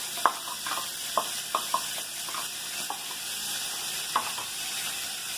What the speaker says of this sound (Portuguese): Estou utilizando uma colherzinha de manteiga para fritar aqui. Vou colocar a cebola.